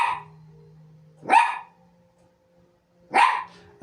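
A dog gives two loud, sharp barks spaced about two seconds apart, close by, with a faint low hum in between and no talk.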